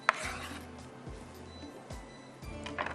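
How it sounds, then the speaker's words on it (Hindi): Knife chopping green chilies and fresh coriander finely on a board, a few dull, spaced knocks over a soft rubbing background, with faint crisp ticks at the start and end. "हरा धनिया, हरी मिर्चें बारीक चॉप कर लेते हैं"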